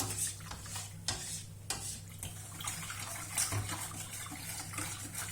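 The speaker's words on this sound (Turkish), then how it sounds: "Şimdi biraz malzemelerimi karıştıracağım." A utensil scrapes and knocks against a pot in irregular strokes, stirring flour for a pudding before the heat is on, quiet and close, over a low steady hum.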